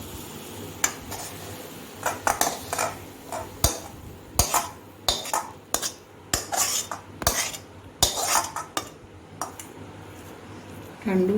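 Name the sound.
coconut ladoo mixture being transferred into a bowl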